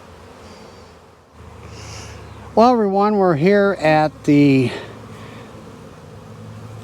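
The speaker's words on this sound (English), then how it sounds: "So let's go ahead down the line and install the package bees." Honeybees hum steadily in the background of an outdoor apiary while package bees are being installed, a low continuous drone that runs beneath a man's speech.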